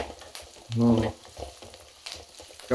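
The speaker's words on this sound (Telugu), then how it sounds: "కాకరకాయ ఇగో ఇందులో వేసుకోవాలి వేగినాక ఇట్లా" Bitter gourd slices fry in a pan with turmeric, giving a steady close sizzle with a brief louder burst of clatter partway through.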